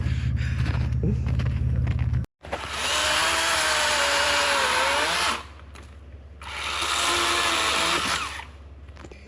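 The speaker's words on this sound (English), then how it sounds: "chainsaw time." A chainsaw revs up loudly twice with a pitch that rises and falls, after an idling engine and a brief cut, quieter between bursts, clearing ice-storm fallen trees.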